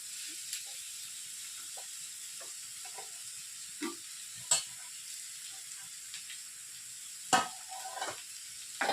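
Mashed potato is stirred into samosa filling in a pan over a low flame, with a soft steady sizzle and occasional sharp scrapes and knocks of the spoon, fairly quiet and close.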